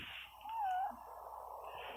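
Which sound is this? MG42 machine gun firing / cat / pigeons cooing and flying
cat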